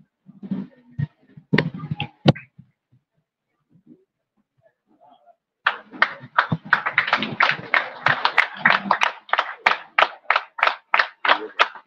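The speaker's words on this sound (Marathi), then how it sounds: "जोरदार टाळ्या वाजल्या पाहिजे." Applause at a book launch ceremony: a few scattered taps and sounds give way to a loud burst of audience clapping that settles into rhythmic, nearly unison claps toward the end.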